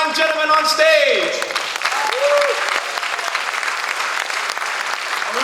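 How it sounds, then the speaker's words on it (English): Loud audience applause with cheering for the football icon players on stage at a golf press event, dense clapping mixed with whoops and a voice speaking over it early on. "Again, a big round of applause for all these fine gentlemen on stage."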